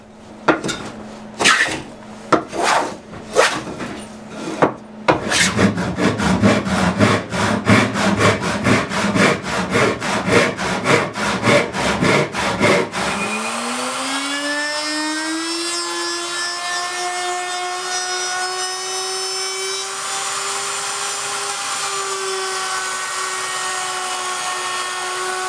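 Wood pieces for wall-hanging stocking holders being sawn by hand, a few separate strokes then a fast steady back-and-forth rasp, ending in a sustained rising whine of a power tool running alone, near and loud.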